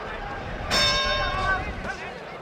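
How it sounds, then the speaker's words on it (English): A boxing bell rings to end round 3 of a Muhammad Ali heavyweight fight against Wepner, a bright ringing tone rising over crowd noise and commentary, then fading after about a second. "There's the bell ending round 3."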